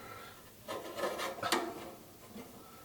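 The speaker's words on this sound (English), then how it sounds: "I'm going to use a pair of needle nose pliers here" Needle nose pliers scraping and clicking against metal while a clip is worked off a belt tensioner pulley during a Maytag Atlantis/Neptune dryer repair: faint, close rubbing and small metallic scrapes over about two seconds.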